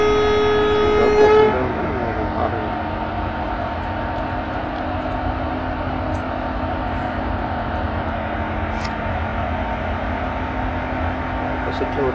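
Electric locomotive horn in a train simulator, sounded loudly at a level crossing on a WAP4-hauled Jan Shatabdi Express from Ernakulam to Kottayam, a short blast followed by a steady rumbling cab drone.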